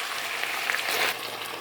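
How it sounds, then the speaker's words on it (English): Vegetables for Indo-Chinese chow mein stir-fry in a hot pan with a steady, bright sizzle and crackle that holds even and close throughout, no voices. "You stir fry them for about 4 to 5 minutes"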